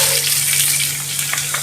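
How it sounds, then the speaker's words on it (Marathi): Mustard seeds and cumin crackling in hot oil for bread poha, a close, steady sizzle with scattered small pops and no talking. "राई जिरं तडतडू द्यायचे।"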